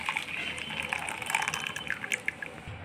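Lemon sharbat poured from a mixer jar into a vessel, a close, gurgling trickle of liquid with splashes and glugs for a few seconds.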